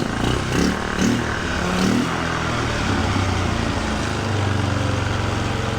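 A 1997 Polaris Sportsman 500 ATV engine running after a carburetor fix, a steady loud close-up rumble with a few brief revs near the start before settling into an even drone.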